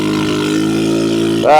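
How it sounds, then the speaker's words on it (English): A scooter's small engine, its exhaust grown loud again, drones at a steady low pitch, then rises sharply as the throttle opens, a loud buzzing exhaust close by. "The exhaust got loud again."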